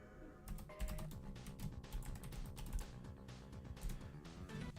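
Rapid clattering keystrokes on a computer keyboard, irregular bursts of close clicks and taps continuing throughout at a quiet level with faint background music.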